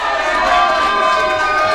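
A wrestling crowd cheers for Gatson, a dense steady roar of many voices at an arena show, loud and unbroken throughout.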